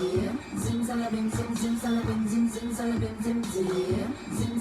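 Music with a steady beat of bright, clanging metallic percussion hits repeating over sustained low tones, continuous and fairly loud throughout.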